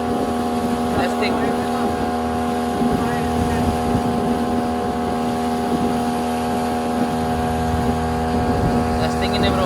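A 15 hp engine drives a fiberglass boat, a steady, loud motor hum with a constant tonal drone and wind buffeting over the microphone.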